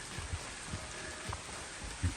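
Constant rain falls on the Appalachian Trail, a dense, even hiss close around with occasional heavier drops landing on a nearby surface, and no voices.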